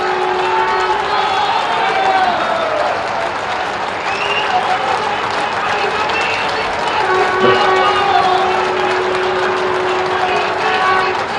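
A large crowd at an outdoor public rally for two politicians, marking a flyover inauguration, keeps up sustained loud clapping with scattered cheers, and a voice carries over it.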